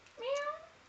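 A cat gives a single close, clear meow with a rising-then-falling tone, lasting under a second, with nothing else heard around it.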